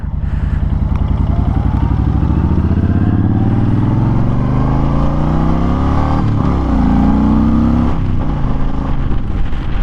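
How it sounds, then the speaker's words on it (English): A Honda Fury cruiser motorcycle accelerates hard through its gears, its loud throaty engine note rising in pitch, dropping at each shift, then climbing again, with wind rushing past. "I still like to give a little acceleration test just so you can see that this thing does have some good power to it"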